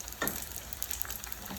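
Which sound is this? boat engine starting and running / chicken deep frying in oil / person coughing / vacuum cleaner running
chicken deep frying in oil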